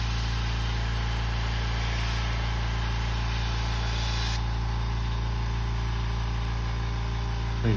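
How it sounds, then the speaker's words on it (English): A newly bought air compressor feeding an airbrush runs with a steady, loud motor hum and constant low vibration, holding an even drone from start to finish with no voices. "I bought a new compressor. I really like it until it kicks on."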